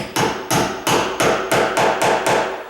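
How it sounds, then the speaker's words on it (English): A hammer taps a door hinge pin into a hollow core door, giving eight evenly spaced, fairly loud metallic strikes about every third of a second, each with a short ringing decay. "And just tap it nice and easy"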